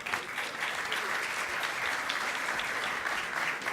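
Steady applause fills a symposium hall, many hands clapping in a dense, even wash for the whole stretch, fairly loud and without voices.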